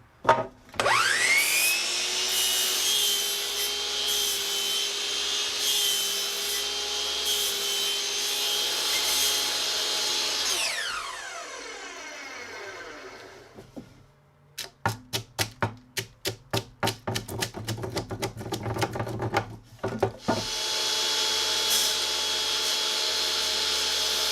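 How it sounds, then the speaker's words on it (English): A circular saw running at full blade depth, repeatedly hogging out wood waste for a half lap joint on a gate build: a sustained high whine, then a burst of rapid cutting pulses before the saw spins up again, loud and close with no talk. "we can hog everything out, and we'll get full blade depth to get rid of all of our material"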